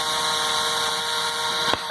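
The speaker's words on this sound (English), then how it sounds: "and then you need to try to drill." A power drill bores into the metal of an axle part, giving a steady high whine with a sharp click as it stops near the end. Close and moderately loud.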